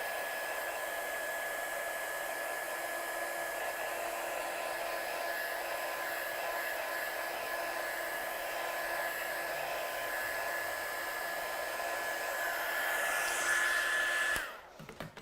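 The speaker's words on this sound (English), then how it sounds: "I'll just dry out the envelope." A hair dryer blows steadily at close range for about fourteen seconds, drying a sparkly envelope, then cuts off abruptly. There is no talking.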